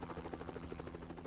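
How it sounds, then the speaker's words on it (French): A steady, low rotor drone with a rhythmic chop hangs over everything, like a helicopter passing overhead at moderate distance. "des hélicoptères survolaient les environs"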